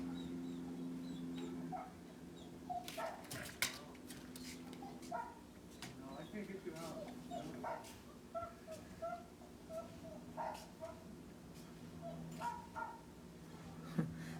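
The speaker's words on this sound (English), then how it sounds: "Yeah, I hear them doggies." Dogs on a television dog show bark and whimper in short, scattered bursts at a faint, distant level, over a steady low hum, with a person talking nearby.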